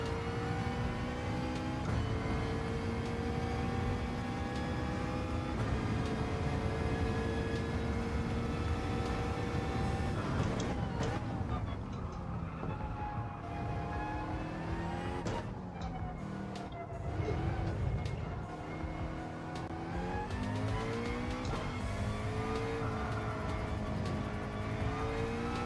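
Race car engine in Gran Turismo 7 on a warm-up lap at Lago Maggiore, revving loud and sustained with rising and falling pitch through gear changes, alone with no talk.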